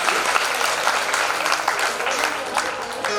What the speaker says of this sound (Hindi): एक बार तुलसीदास जी के लिए जोरदार ताली बजाओगे।